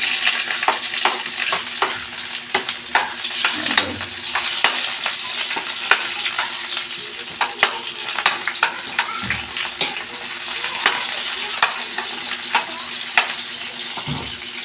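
Garlic and onion frying in a pan as the base for a home-style milkfish dish; a loud, steady sizzle with frequent sharp stirring clicks and scrapes, close up and without talk.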